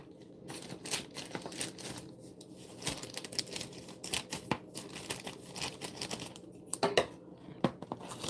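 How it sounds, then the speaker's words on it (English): Quiet, close snipping and crinkling of plastic packaging, a series of irregular cuts and rustles against a soft background hiss. "I'm just chopping this up with a pair of scissors."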